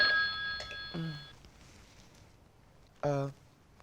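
A telephone rings with short electronic trilling bursts, clear and close, the first ring fading out before a second brief burst starts; a few indoor voices sound faintly around it.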